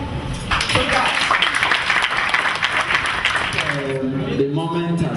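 An audience claps at the launch of a youth initiative in Africa. The applause is moderately loud and sustained, and a voice rises over it near the end.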